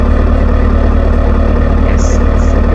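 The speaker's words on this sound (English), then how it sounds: "let's remove all the mufflers so we have like a straight pipe here. All right, let's start it up." A V8 engine built in the Automation car-design game, all mufflers removed for straight pipes, idles loud and close, a dense steady low rumble with no change in pitch and no talking.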